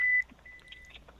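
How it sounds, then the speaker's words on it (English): A single sustained electronic beep at fairly low volume sounds for about a fifth of a second, then a softer, thinner tone lingers faintly with small clicks beneath it. "Sorry for that beeping."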